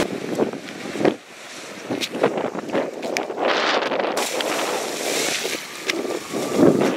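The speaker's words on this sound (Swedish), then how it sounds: "Det blåser så jävla mycket nu." Strong wind on the island of Öland, Sweden, buffets the microphone outdoors with a steady, gusting roar and rumble that swells and eases, with no clear talk.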